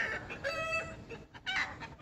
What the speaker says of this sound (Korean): 닭이 꼬꼬대꼬꼬해요